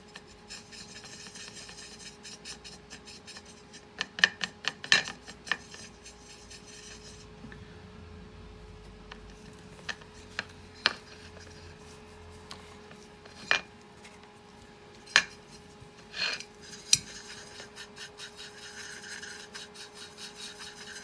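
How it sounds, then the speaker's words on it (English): A brush swirls and scrapes through AMMO by Mig Jimenez medium rust weathering pigment powder, giving soft continuous rubbing broken by scattered sharp clicks and taps, close and fairly quiet. "Just gonna mix some of this top one."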